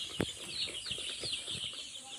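Five-day-old chicks cheep and peep in quick, high-pitched bursts nearby, with a low cluck and faint background noise.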